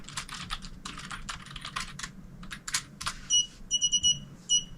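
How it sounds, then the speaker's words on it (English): Keystrokes on a computer keyboard as a phrase is typed at a Raspberry Pi 5 command line, quick irregular clicks in bursts, followed by several short electronic beeps near the end. "type a phrase into it."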